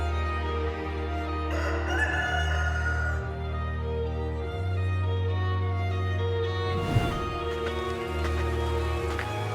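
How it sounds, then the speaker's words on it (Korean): A rooster crows in an animated retelling of the Easter story, a drawn-out call over steady music and rain-like background, with a brief noisy burst near the end. "닭이 두 번째 울었다."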